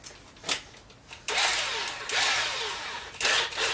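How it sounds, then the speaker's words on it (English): Power drill boring holes into a shed baseboard, short whirring bursts, then longer sustained drilling runs with brief pauses between, fairly close and moderately loud. "I'm just going to temporarily drill the holes and then sink the screw in."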